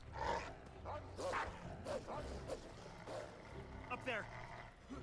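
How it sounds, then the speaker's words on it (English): Dogs barking in the video game Assassin's Creed 3: several short barks and yips in bursts, fairly quiet, mixed with someone talking and game sounds. "Go get them, dogs."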